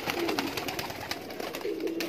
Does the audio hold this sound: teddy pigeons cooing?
yes